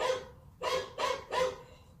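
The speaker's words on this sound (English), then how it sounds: "barking dog." Recorded dog barking played through the speaker of a floodlight security camera, four sharp barks in a loose rhythm, fairly faint and tinny, with no talk.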